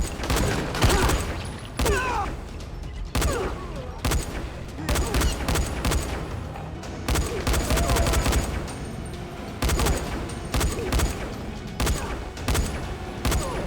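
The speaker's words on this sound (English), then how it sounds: "we've got ourselves a huge shootout where our ammo problems kinda disappear for the time being" A heavy shootout in the video game Dying Light: rapid, overlapping bursts of automatic gunfire and single shots crackle almost without pause, loud and close, with brief gaps between volleys.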